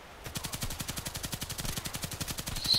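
Rapid automatic gunfire from the online shooter game Contract Wars, a steady burst of about thirty evenly spaced shots that runs nearly three seconds, loud and close with no talking over it.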